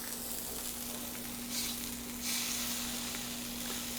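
Thick steaks, about an inch and a half, sear in hot canola oil in a cast iron pan, giving a soft, even hiss with a couple of brief louder surges and a constant low hum underneath.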